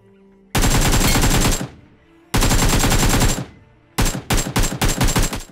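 Video game gunfire rips out in three loud, close bursts of rapid automatic fire: two long sustained strings, then several short choppy bursts in quick succession.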